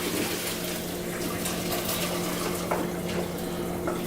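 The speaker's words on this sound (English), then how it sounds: "All right, I'm gonna drain this pasta." Pot of cooked pasta being drained in a kitchen, giving a steady, continuous rush of pouring water with a low background hum, fairly close and unbroken throughout.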